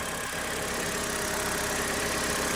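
Car engine idling just after starting, a steady close rumble with a faint knocking texture running unbroken throughout, loud and alone.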